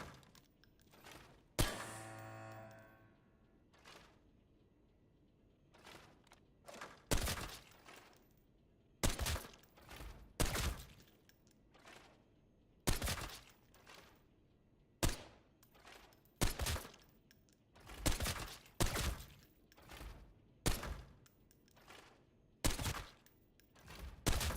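M80 rounds fired in the shooter game Arena Breakout: Infinite, heard as repeated short sharp bursts and single shots separated by pauses, loud and close.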